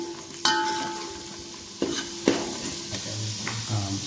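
Turmeric tipped into hot oil already holding garlic and curry leaves for a village chicken masala, giving a steady close sizzle broken by a few sharp spoon knocks and stirring scrapes against the pan.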